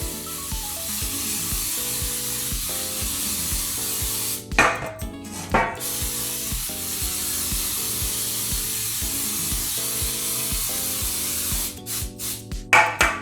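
Baking spray with flour hisses in short bursts as it coats three cake pans for a carrot cake, two clusters of sharp spray blasts standing out over steady background music.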